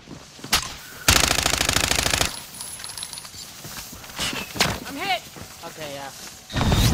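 Gunfire in a shooter game, mainly one loud rapid automatic burst lasting about a second, with scattered shots, metallic clinks and other game noises around it.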